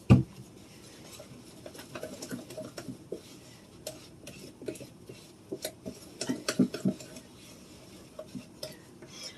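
Pumpkin roll batter being stirred by hand in a pan, irregular scraping and tapping of a utensil against the pan, fairly close, growing busier toward the end.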